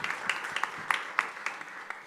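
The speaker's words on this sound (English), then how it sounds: "Let's give them a round of applause and thank them as well." A short burst of audience applause at a startup pitch competition, many hands clapping together at a moderate distance, rising and falling briefly.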